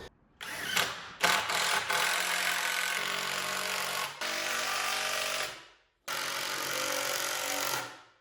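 Power driver running large star-bit lag screws into wooden supports for a wheelchair ramp, loud whirring bursts that rise and strain, then stop, with one long drive and a final run after a short pause.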